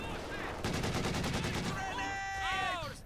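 DShK heavy machine gun firing in a Company of Heroes 2 match, a loud rapid burst of automatic fire for about a second and a half amid battle noise, followed by whistling shell sounds.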